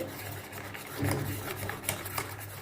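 Spoon stirring chocolate biscuit cake batter in a bowl: continuous close rubbing and scraping with soft irregular strokes, alone with no talking.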